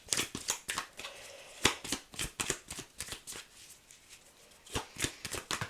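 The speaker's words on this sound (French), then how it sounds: "Je ressens le besoin de battre les cartes." A deck of tarot cards being shuffled up close, with crisp riffling bursts and soft slaps coming in irregular clusters over a few seconds and no one speaking.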